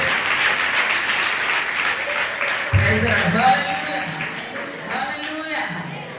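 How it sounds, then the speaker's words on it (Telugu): Applause from the congregation at a Christian family blessing prayer meeting in Guntur, a broad continuous patter of clapping that swells partway through and carries on under background voices. "చప్పట్లు పెట్టి దేవుడిని గణపరుద్దాం"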